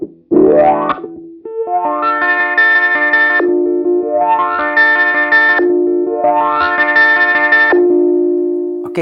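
A Beetronics Zzombee Filtremulator in ramp mode, set to ramp up only, processes a guitar chord. Its filter sweeps upward three times in a row, each rising, distorted, shimmering swell cutting off abruptly before restarting. The sound is loud and has no speech.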